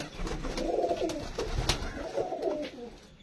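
Imported homer pigeons coo nearby in two soft, rolling phrases, with faint background clatter and no speech over them.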